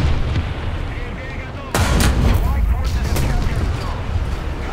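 A bomb blast in War Thunder hits a KV-1 tank, heard as a loud sudden boom midway through a dense, rumbling battle soundscape of gunfire, with a voice speaking over it.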